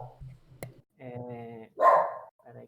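A small dog lets out a short, sharp bark and a few yips close by, breaking in between stretches of someone speaking Portuguese in a talk.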